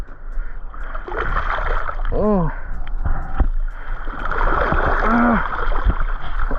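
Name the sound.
sea waves splashing around a small fishing boat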